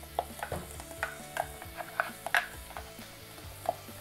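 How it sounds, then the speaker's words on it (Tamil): Ground masala stirred into frying tomatoes in a pan, with a string of soft scraping and tapping strokes from the spoon over a faint background sizzle, close and fairly quiet. "நம்ம அரைச்சி வச்சுருந்த மசாலாவை வந்து இதில் சேர்த்துடலாம்."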